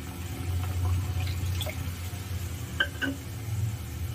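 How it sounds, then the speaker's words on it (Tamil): Water pours steadily into a cooking pot of eggplant and okra kuzhambu with a soft continuous splashing, and a few scattered drips. "கொஞ்சம் கூடவே இதில் தண்ணி ஆட் பண்ணிக்கலாம்."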